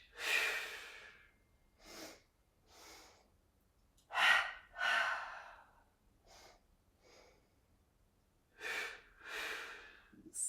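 Audible exhalations in a yoga breathing sequence, several soft breathy out-breaths spaced irregularly with quiet pauses between, fairly close and moderate in level, with no talk over them.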